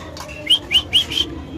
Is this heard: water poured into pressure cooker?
no